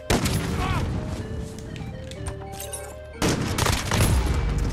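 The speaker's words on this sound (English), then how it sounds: "he's shooting me with the explosive rounds on the sniper" Explosive sniper rounds and other gunfire in Modern Warfare, loud bursts of shots and booms packed densely with a brief lull before a fresh heavy volley near the end, no talking.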